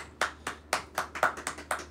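A few people clap their hands at a gathering, about a dozen quick, slightly uneven claps close to the microphone, with no voices.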